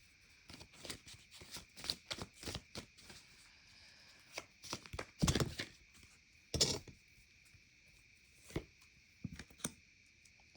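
Tarot cards are shuffled and drawn, giving a scattered run of soft, close flicks and riffling taps in irregular clusters with quiet gaps between them.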